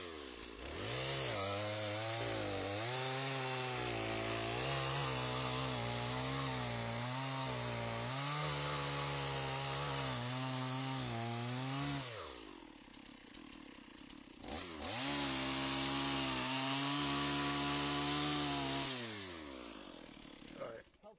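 Chainsaw fitted with a new chain cutting firewood, running loud and close with its engine pitch rising and falling through cuts, pausing briefly near the middle before revving up again.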